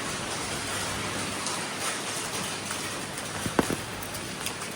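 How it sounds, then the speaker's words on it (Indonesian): Light drizzle patters steadily on an umbrella outdoors, a soft continuous hiss with scattered drops and one brief sharp tap. "Tapi ini hujan aja gerimis."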